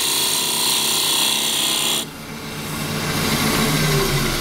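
A wood lathe turning a red cedar bowl: a loud, steady whirring hum with a rasping tool-cutting hiss that drops suddenly midway and then slowly builds back up.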